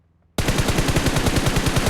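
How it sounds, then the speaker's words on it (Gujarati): Automatic gunfire in the battle royale game BGMI, a rapid, loud burst that starts abruptly after a short silence and continues as a steady stream of evenly spaced shots. "આગળ ક્યાંક ફાયરિંગ થાય"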